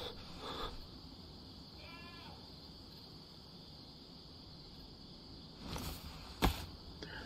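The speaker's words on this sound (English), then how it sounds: "I hear a goat." A goat in the survival game DayZ gives a single short, faint bleat from some distance over a steady bed of chirping crickets, followed by a few soft thuds.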